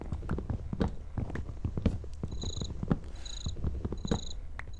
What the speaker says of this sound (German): Hallo Grille.